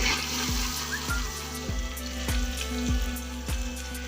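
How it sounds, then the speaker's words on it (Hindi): Chopped onion frying in hot oil, a steady close sizzle with a rhythmic series of low knocks from a spoon against the pan about every half second. "प्याज को अच्छी तरह से भून के लाल करेंगे।"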